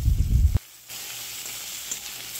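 Taro pieces frying with turmeric powder in a pan, a soft steady sizzle after a brief low thump and pause, continuing evenly with faint stirring scrapes.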